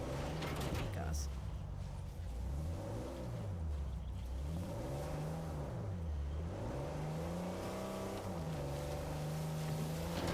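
Motorboat engine in Uncharted 4 revving up and down in waves, a steady loud drone with rising and falling pitch throughout, water wash underneath and some voice mixed in.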